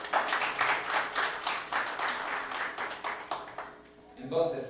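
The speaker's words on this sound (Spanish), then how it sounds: "¿le puede dar un fuerte aplauso?" Congregation at an evangelism meeting claps together in a dense, steady burst of applause that fills most of the moment, fading out near the end as a voice begins to speak.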